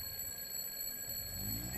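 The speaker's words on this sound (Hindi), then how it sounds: "अलार्म बजता रहा" An alarm clock rings steadily on a bedside table in a morning bedroom, a continuous high electronic tone held for the whole stretch at moderate volume with no voices.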